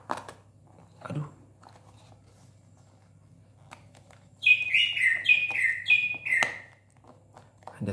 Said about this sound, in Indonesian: Ada suara burung guys.